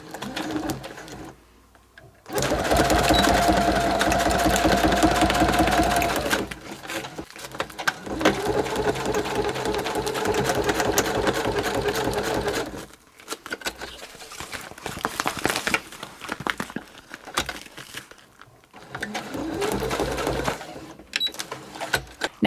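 Sewing machine stitches straight across a folded fabric pleat on a clear project bag, running in steady whirring bursts with short pauses between, close and moderately loud.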